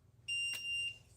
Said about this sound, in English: you see that beep? That means it turned off.